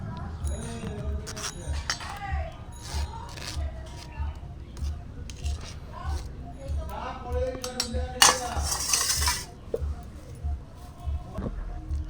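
A spoon transfers drained mango into a bowl while making kasundi, with repeated clinks and scrapes of metal on the dish, a louder clattering burst midway, and a voice talking over it.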